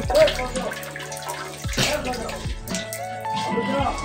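Heavy rain pours steadily in a village, a continuous dense rush of water with occasional knocks and thuds, while a person talks over it.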